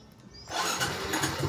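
A Suzuki Smash 115 motorcycle with a two-year-old battery starts up: a short quiet moment, then the engine catches abruptly and runs on with a rough, loud, close idle.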